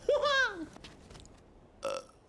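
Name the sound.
burp after a snack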